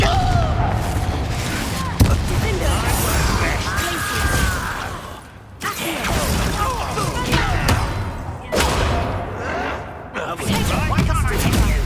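The Confringo fire spell blasts in Hogwarts Legacy: loud booming bursts in a dense, continuous stream of battle effects, with a voice calling out amid the noise.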